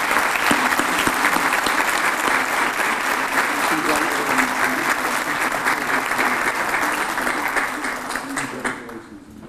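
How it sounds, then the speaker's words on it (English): Sustained audience applause at a corporate leaders and achievers awards event, dense steady clapping from a large crowd that holds loud for several seconds before tapering off at the end. "Another round of applause for Alexis."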